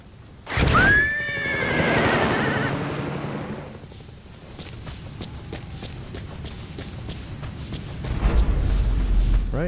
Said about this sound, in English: we'll go ahead and dismiss our horse